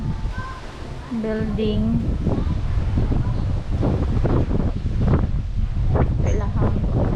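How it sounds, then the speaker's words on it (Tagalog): Strong wind blowing outdoors at a resort car park, roaring steadily across the microphone with gusting rustle, while people talk over it. "Mahangin! Grabe ang hangin sa gawas."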